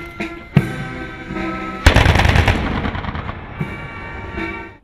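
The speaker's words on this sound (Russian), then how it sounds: "звуки которого перекрыл лишь оружейный салют" A military gun salute fired outdoors at the Brest Fortress, beside a military brass band. Sharp, loud reports crack out at the start and again midway, and each one trails off into a long, echoing rumble.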